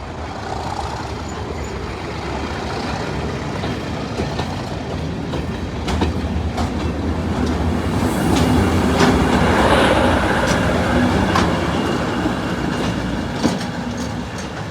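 A heavy Class 37 diesel locomotive train departs Corfe Castle station on the Swanage Railway, rumbling steadily past, its engine drone and wheel noise building to a peak midway before easing off, with occasional sharp clanks.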